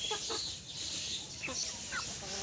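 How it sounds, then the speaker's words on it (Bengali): Broiler chickens on a farm cluck in short, scattered bursts, fairly faint over a steady background hiss, with a few separate calls spread across the moment. "এগুলো হচ্ছে আমার ব্রয়লার"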